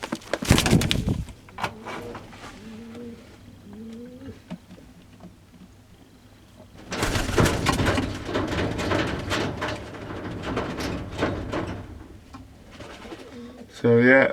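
A protective mother pigeon calls beside her two chicks, only a few days old, in a nest: soft, low cooing phrases close by, mixed with rustling and a person talking nearby.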